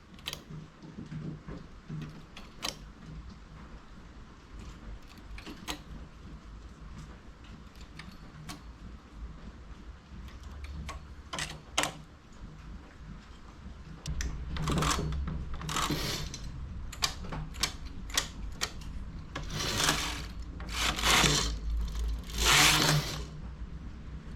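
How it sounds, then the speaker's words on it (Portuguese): A domestic knitting machine clicks and ticks at close range while loops are moved onto it, then its carriage is pushed across in several longer whooshing, rattling passes toward the end. "Volto laçadas de um dos lados para a máquina."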